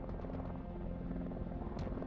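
A high-tech helicopter in flight, with steady, loud rotor thumping and a dense engine drone filling the whole stretch, no talk.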